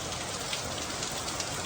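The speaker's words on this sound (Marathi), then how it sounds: "पाऊस एवढा जोरात पडतोय." Heavy downpour drums loudly and evenly nearby, a dense unbroken roar of rain hitting surfaces with no voices.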